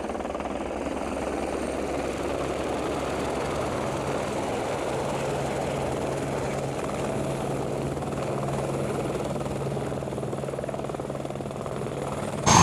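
A helicopter idles steadily on the glacier below Mount Cook in New Zealand, a continuous close rotor and turbine drone with no voices over it.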